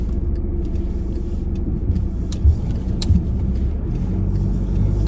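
A car pulls away during a G2 road test in Burlington, its engine rumbling low and steady from inside the cabin, with a couple of soft thumps and no talk.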